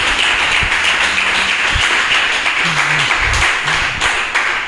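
A church congregation applauds in praise, a steady dense wash of clapping filling the whole stretch with a few low thumps and brief voices underneath.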